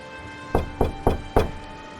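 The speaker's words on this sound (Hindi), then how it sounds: "तभी अचानक लकड़ी के पुराने और भारी दरवाजे पर जोरदार दस्तक हुई" Four heavy, hollow knocks on an old, heavy wooden door, evenly spaced and close, with a quiet background between them.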